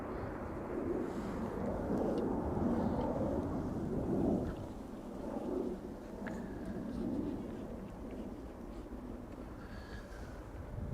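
A KLM airliner takes off at Amsterdam Schiphol Airport with a broad, rumbling roar that swells loudly, then slowly fades as it climbs away, with no talking.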